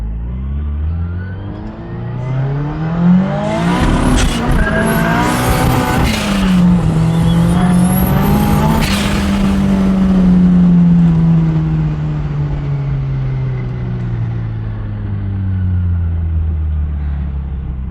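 A turbocharged Mazda 323 fitted with a 4AGE engine revs hard and loud, its pitch sweeping up and down through repeated throttle blips, close and alone with no voices.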